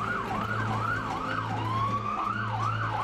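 Emergency vehicle siren wailing steadily in rising and falling sweeps, loud and continuous, with a low engine drone beneath.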